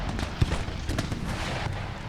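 Cannon fire in the Empire Total War video game, a few booming muffled blasts, one sharp shot near the start, over a rumbling battlefield din with no talk.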